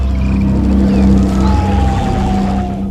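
Underwater recording of mysterious creatures trading calls with dolphins: loud, continuous whale-like tonal moans and sliding whistles over a steady low drone.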